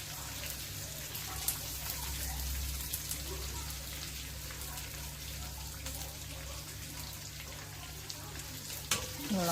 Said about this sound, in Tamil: வதக்கிக்கணும்